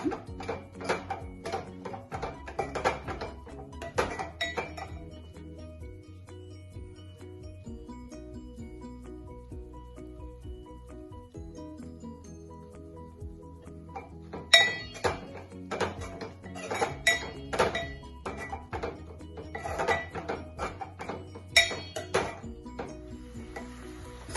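A spoon scraping and clinking against a pan while jaggery and coconut are stirred together for laddu, irregular metallic taps in two busy stretches separated by a quieter gap, with faint background voice.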